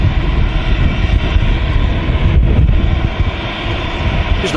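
Ryanair airliner jet engines on takeoff roll at Manchester Airport: a loud, continuous, rumbling roar with deep low-end power, steady and close, with no voices.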